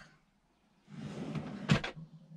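Second kitchen drawer in a Mac Louis MC4 33 Diamond motorhome sliding open after a moment of silence, a low smooth rolling rumble ending in a crisp knock at full extension, heard up close.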